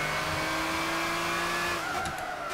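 A race car in Gran Turismo 6, a video game, drives with a steady, droning engine note held at high revs, then the pitch shifts as it changes gear, with faint tire noise beneath.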